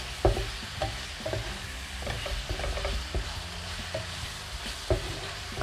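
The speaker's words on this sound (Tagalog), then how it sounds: "So parang naluluto siya sa sarili niyang mantika" Pork adobo (adobong puti) frying in its own rendered fat is stirred with a spoon, giving repeated close scrapes and knocks against the pan over a soft crackling sizzle, with no voices.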